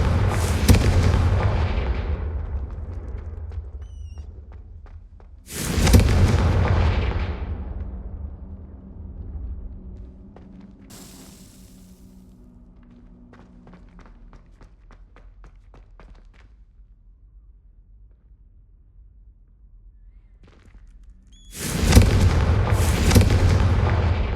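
Blasts of the Confringo fire spell in the Hogwarts Legacy video game, loud booming bursts that fade out, a few seconds apart, with small crackles and footsteps in the quieter stretch between them.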